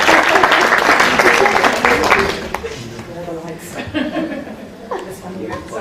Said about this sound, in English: So if you can give them a big round of applause for coming.